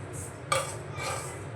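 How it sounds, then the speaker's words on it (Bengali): Garam masala being stirred into chana dal filling in a pan, soft scraping of a spoon against the pan with one sharper clink, quiet and close over a low background hum. "নাড়িয়ে মিশিয়ে নেব।"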